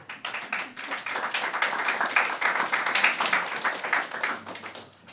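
A room of attendees at a school board of education meeting claps steadily for about five seconds. The applause is dense and moderately loud, rises slightly, then tapers off, with no voices over it.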